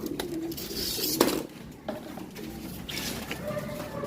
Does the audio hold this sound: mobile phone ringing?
no